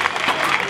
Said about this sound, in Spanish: ¡Fuerte el aplauso para ese tío!